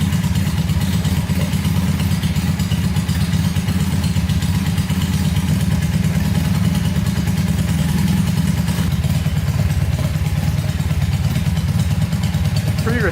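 A Honda trike's engine idles steadily, a continuous low rumbling drone with light mechanical clatter on top, close and fairly loud throughout without any revving.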